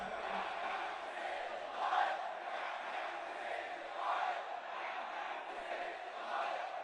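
A massive protest crowd in Baghdad, a distant dense roar of many voices with rhythmic rising chants swelling every couple of seconds.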